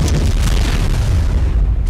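A missile launch explosion in ARK, a loud sustained low boom with heavy rumble filling the whole moment.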